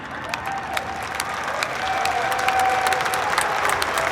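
An audience at a keynote applauds, making steady, dense clapping throughout that swells slightly partway through, with no other sound standing out.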